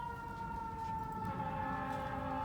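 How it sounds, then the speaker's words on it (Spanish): An ambulance siren passing by, a steady, sustained wail held at a constant level throughout, heard from a moderate distance over a low background rumble. "Pero me voy a esperar un poquitito por el sonido de esta ambulancia."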